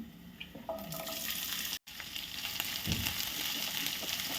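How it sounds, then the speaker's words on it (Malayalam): Chopped onions and garlic frying in a pan for a Kerala egg fry, a steady loud sizzle with a brief gap and some stirring scrapes, no talking. "ഇതിലേക്ക് 2 സവാളയാണ് ചേർത്ത് കൊടുക്കുന്നത്."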